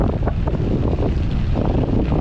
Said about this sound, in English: We're going against the wind.